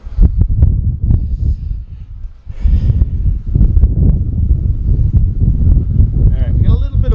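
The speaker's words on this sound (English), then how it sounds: "we got a little bit of wind, so you probably can't hear me very well" Wind buffeting the microphone on the flying bridge of a Carver 530 Voyager boat, gusty low rumble that comes and goes, heard under someone talking throughout.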